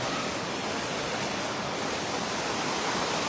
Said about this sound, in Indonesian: tapi jalan lintasnya itu masya Allah udah seperti sungai, udah seperti sungai gelombang